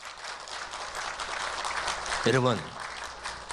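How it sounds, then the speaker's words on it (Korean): A church congregation claps together under a brief spoken word, a dense patter of hands that swells toward the end of the moment. "박수합시다."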